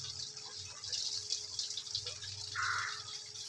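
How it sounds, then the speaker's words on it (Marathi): Water falls continuously from a cow-mouth spout onto a Shiva lingam on the Narmada riverbank, a steady, even rush with no pauses and a soft hum underneath. "हे गोमुखमधून असं कंटिन्यू पाणी पडत असते शंकराच्या पिंडीवर"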